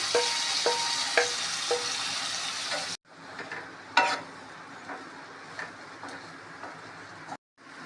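Potatoes sizzle steadily while frying in a pot with yogurt-mixed masala for dum aloo biryani. After a short break the sizzle turns quieter, and a spoon clicks and taps now and then as the pot is stirred.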